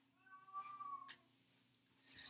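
A cat meows indoors, one drawn-out tonal call followed by a shorter faint sound, clear and fairly near in a quiet room.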